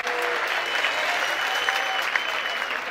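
A crowd at a Liga Bazooka 2022 freestyle rap battle breaks into dense, continuous applause, loud and steady for a few seconds.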